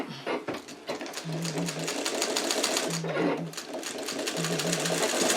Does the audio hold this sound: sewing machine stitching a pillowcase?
yes